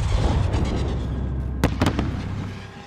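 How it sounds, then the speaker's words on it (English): A signal flare fires from a rooftop launcher in Call of Duty: Modern Warfare, giving two or three sharp, loud bursts near the middle over steady rumbling battle ambience. "fire a flare from the launcher on the roof"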